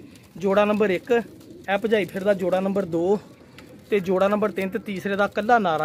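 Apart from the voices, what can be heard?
domestic pigeons cooing in a loft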